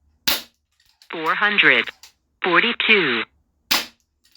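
Two sharp, close air-rifle shots from an RTI Prophet, one near the start and one near the end, with a man calling out a number between them.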